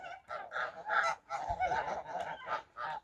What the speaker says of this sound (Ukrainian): Мої гуски стали і точать кашу